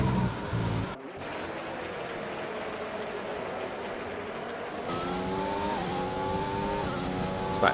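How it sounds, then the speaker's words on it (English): A Williams Formula One car enters the pits at a Mexico race, its engine droning loud and steady, cutting out briefly before a higher, rising engine note returns near the end. "As there's a Williams coming into the pits"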